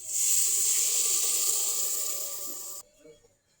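Hot water goes into a kadai holding a spice paste of ground masala, chilli, onion and green chilli for home-style biryani, giving a loud, steady hissing rush that cuts off abruptly near the end.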